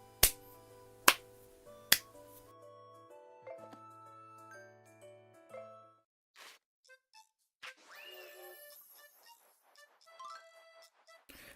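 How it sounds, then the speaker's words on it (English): Three sharp claps in a steady rhythm from the Yoshi's Crafted World demo, followed by light chiming game tones and sparkly effects. "We did it! Clap for joy."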